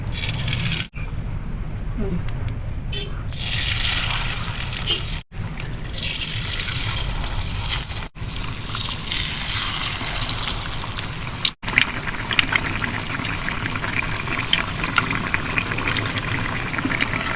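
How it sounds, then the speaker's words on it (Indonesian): Steady broadband sizzling and crackling of stuffed tofu frying in hot oil, continuous and fairly close, with a few brief gaps and faint background voices. "tinggal kita goreng tahunya. Kita goreng minyak panas ya."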